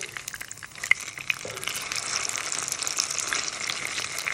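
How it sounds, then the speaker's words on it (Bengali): Noodle pakoras fry in hot oil with a constant, close crackling sizzle, punctuated by a few sharp pops and light clicks, and no talking. "একটা পার্ট কিন্তু 2 থেকে 3 মিনিটের বেশি ভাজা যাবে না, তাহলে পুড়ে যাবে।"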